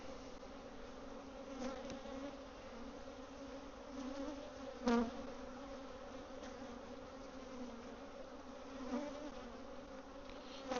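A dense, steady hum of many bees in an open hive buzzes close by, with a few louder individual bees passing near now and then.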